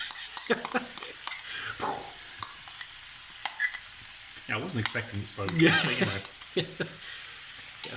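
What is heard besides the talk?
sauce frying in a pan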